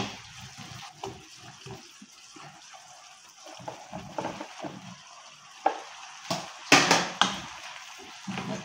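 Pakbet vegetables with pork and eggplant are stirred in a pan, with irregular scraping and clattering strokes over a soft frying hiss that grow busier and louder toward the end. No one speaks.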